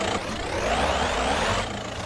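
A video game car's simulated Volkswagen 1.9 TDI diesel engine revs up and holds a rough, rising whir for a couple of seconds before settling back down.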